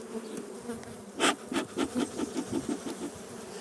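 Honeybees buzz quietly and close up as a hive is opened for inspection, with a soft, steady hum broken by short flurries of wingbeats and light rustling of frames.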